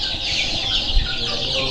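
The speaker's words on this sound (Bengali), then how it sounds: "ভাই দেখেন দেশি মুরগি খামার করছে।" Native village chickens on a small poultry farm clucking softly and continuously, close by, with a short brief bump of noise and no talk.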